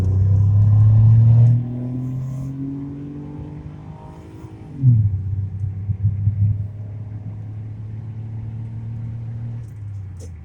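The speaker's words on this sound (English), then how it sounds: "really decent for a car this size to get up to speed that fast" A car of modest size accelerates up to speed while merging onto a highway, its engine droning loudly at first, then shifting and surging into a steady rising hum heard from inside the cabin.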